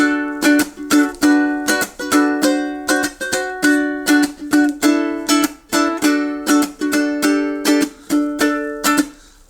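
A ukulele strums bright chords in a steady, driving rhythm, each stroke crisp and close, with no voices.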